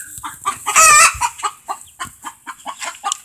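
Backyard chickens cluck around a small coop that holds five or six adult birds, with a burst of loud, busy calling near the start followed by steady repeated clucks close by.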